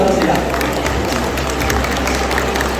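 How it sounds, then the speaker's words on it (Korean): Dense, loud applause from a large hall audience as leaders walk onto a stage at a corporate promotion ceremony, mixed with crowd noise and a voice over the top. "등단하시는 리더분들을 박수로 환영해 주시기 바랍니다."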